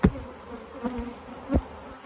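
Honeybees, including Italians, buzz near a hive in a steady low drone, with a few louder passes as single bees fly close.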